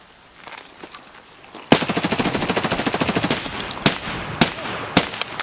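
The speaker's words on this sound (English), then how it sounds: "I'm going to assume they're shooting at me." Rapid automatic gunfire in the video game Escape From Tarkov rattles out in a long sustained burst, followed by several separate loud single shots, close and dominant with no talk over it.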